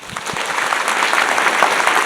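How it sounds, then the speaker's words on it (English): Crowd applause at a university State of the University address in North Dakota, a dense, loud wash of clapping that swells slightly and holds steady. "And how about a round of applause?"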